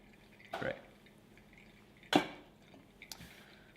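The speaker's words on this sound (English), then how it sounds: "we're just going to let that drain through." Coffee drains through a Chemex paper filter with a few soft, scattered drips and trickles, quiet and close, with no talking.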